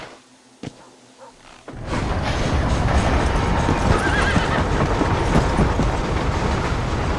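Horse hooves clip-clop at a steady gallop with occasional neighs while riding out of town in the Western video game Red Dead Redemption, starting quiet and then loud and continuous after a brief lead-in.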